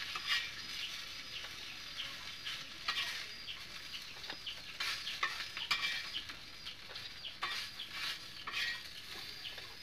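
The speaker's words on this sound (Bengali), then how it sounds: "কত সুন্দর ভাজছে মাছকে" Fish frying in oil in a pan, a faint continuous sizzle broken by scraping spatula stirs and irregular crackles.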